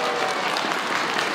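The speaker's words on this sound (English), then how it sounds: "A round of applause once again." Dense, steady applause from an audience at a South Brooklyn Lunar New Year celebration, a continuous wash of clapping at close range throughout.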